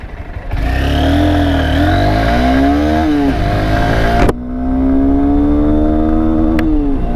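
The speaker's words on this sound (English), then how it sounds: "let's drag the vehicle in each and every gear so that we can see the power in each and every gear. So we are in the first gear." Honda Hornet 2.0 motorcycle accelerating hard in first gear, the engine note climbing steeply, dropping sharply at a shift, then rising again, loud and close with wind noise.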